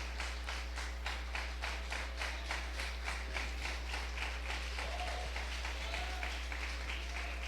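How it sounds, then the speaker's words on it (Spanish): A church congregation claps in steady unison, a rhythmic run of evenly spaced hand claps over a constant low hum, moderately loud and sustained with no one speaking over it. "Tributo de palmas para Dios, tributo de aplausos para el Señor."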